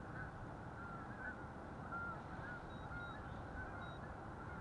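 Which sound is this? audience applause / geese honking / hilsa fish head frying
geese honking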